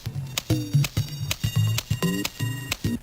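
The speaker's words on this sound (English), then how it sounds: "There's one more drum loop here that I used for the intro" A 128 BPM drum loop sample plays alone, a steady pattern of punchy kicks and snappy hits over tuned, pitched tones, close and loud with a tight repeating groove.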